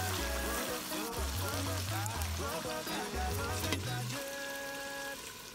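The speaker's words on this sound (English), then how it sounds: "It's been frying now for about 10 minutes." Sauce for Ghanaian red snapper fish gravy sizzles steadily in a pan, a constant crackling hiss heard beneath background music.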